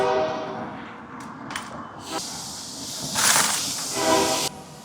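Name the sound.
train horn blowing as a train passes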